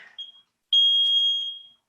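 A workout interval timer sounds a short beep, then after a brief gap a loud, sustained high beep that fades at the end. It is close and clear, with no talking.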